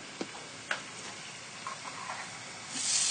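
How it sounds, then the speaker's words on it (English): Blended Thai green curry paste sizzling in a hot pan, a steady soft frying hiss with a couple of sharp clicks and scrapes early on, swelling louder toward the end. "You're getting nice and hot now. A good old sizzle, that's what we like."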